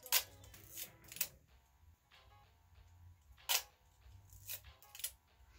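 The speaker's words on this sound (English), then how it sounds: "So we tested quickly the shutter speed" A Yashica TL Electric X film camera, bought secondhand for $6, fires its shutter with the lens off. About five sharp, close mechanical clicks come at uneven intervals, separated by near-silence.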